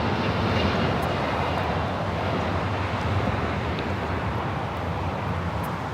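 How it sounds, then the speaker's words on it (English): An El Al Boeing 787-9 Dreamliner takes off at LAX bound for Tel Aviv, its engines giving a loud, steady, broadband roar that fills the air without a break. "This is El Al Flight 6 taking off to Tel Aviv on the 787-9 Dreamliner"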